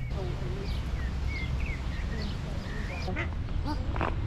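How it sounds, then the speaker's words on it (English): A large duck quacks a few times near a lakeside path, short calls scattered over steady outdoor background noise while people talk nearby. "Look at this big duck."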